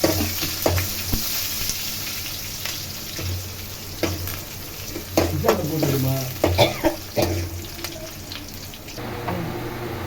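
Dried red chilies and onions fry in hot oil with a steady close sizzle, broken by irregular scraping stirs and a few sharper clatters of the spoon against the pan.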